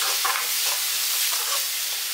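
Flattened rice (aval) mixture stirred in a pan over low heat, a continuous close hissing sizzle with faint scraping strokes.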